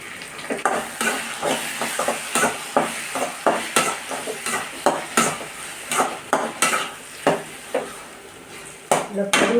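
Tomato for okra pachadi sautéed in a pan, with a spatula scraping and stirring in a steady run of sharp, close strokes over a soft background sizzle.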